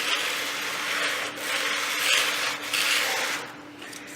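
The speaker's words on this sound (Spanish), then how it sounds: "siempre con la lija extendiéndola a lo largo de la estructura, para evitar deformaciones" Sandpaper rubs along the wooden leading edge of a cadet-category model airplane in steady, close rasping strokes with a gritty texture that rises and falls.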